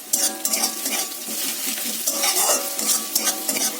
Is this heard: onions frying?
yes